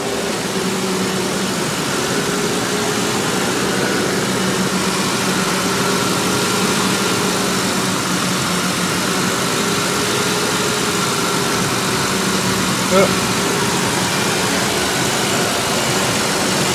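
Steady idle of a Ford Explorer engine left running after a water pump repair, a constant loud hum with a faint tick near the end and no voices.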